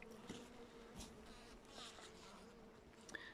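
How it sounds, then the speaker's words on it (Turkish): A low, steady buzzing hum of many Carniolan honeybees at an open hive, close by, with occasional louder passes of individual insects and no talking. "Evet bu da karniyol arımız."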